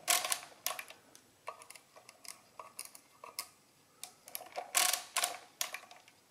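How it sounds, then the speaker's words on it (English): Turning the crank of an Original-Odhner 24 mechanical calculator gives a quiet series of crisp metallic clicks and ratcheting clacks in uneven groups, close and alone. "To subtract, simply turn the crank the other way."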